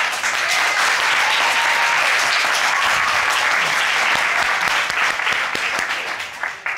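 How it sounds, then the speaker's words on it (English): Loud, sustained clapping from a studio audience on a couples court show, dense and continuous for several seconds before tapering slightly at the end. "Why are you clapping?"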